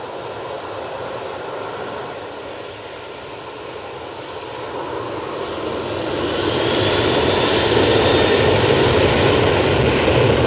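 A Ryanair jet airliner at Manchester Airport, a broad jet roar with a thin high engine whine that grows louder and closer over the final seconds.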